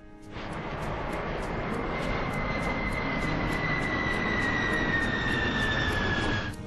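Airbus A320 engines in a flight simulator held at a steady, loud jet roar with a rising whine, continuous and close, with no voices.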